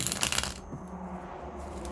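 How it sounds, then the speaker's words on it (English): Tarot cards riffled and shuffled by hand, a quick burst of crisp papery flutters up close at the start, then settling into faint handling rustle. "the cards are shuffling good today"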